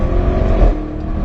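A Porsche or Audi sports car with a standard exhaust accelerating hard, a loud continuous engine roar building and surging briefly before settling, close by with no talk.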